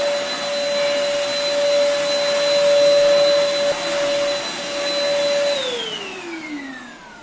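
Bactidi Bleach V8 cordless vacuum cleaner running with a loud steady whine and airy rush, close up, its pitch dropping as it winds down near the end.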